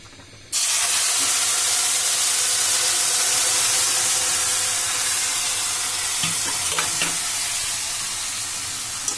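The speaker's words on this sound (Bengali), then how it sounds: "সেমাইটা সময় দিয়ে ভাজা লাগবে যাতে না পুড়ে, গ্যাস ডিম করে দিয়ে সেমাইটা ভাজতে হবে।" Vermicelli (semai) frying in a pan over low gas heat, a steady broadband sizzle that starts abruptly and holds evenly, with a few faint scrapes near the end.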